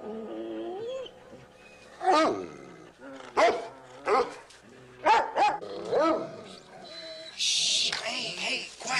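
A dog howls at night on a ranch in the Old West, with long drawn wavering cries rising and falling at close range over a quiet background, ending in a brief hiss of noise.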